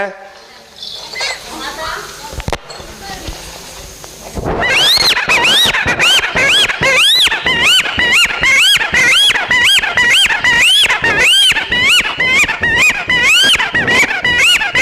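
Newborn baby girl crying within a Tamil storytelling performance of the Ponnar Sankar tale: a performer's voice mimics a loud, rapid, repeated high-pitched wailing that runs on continuously after brief speech at the start.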